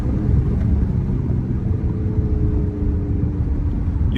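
Dodge Charger engine with paddle shifters held at a steady low rumble while downshifting, close and loud throughout, no sharp rev spikes, no voices.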